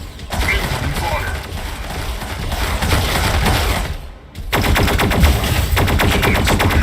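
Rapid, dense machine-gun fire from mechs in the Mech Arena free-for-all video game rattles almost continuously, with a short gap before resuming, alongside game announcer voice lines.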